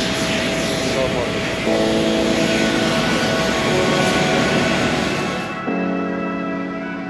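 A seaplane's aircraft engine drones steadily in the Maldives, loud and close, with a tonal hum that rises in pitch partway through, then cuts back before returning, while people talk over it.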